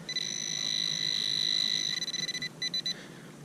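A metal detector sweeping over gravel gives a quiet, steady electronic tone that holds for about two seconds, then breaks into a stuttering run of short, clipped beeps.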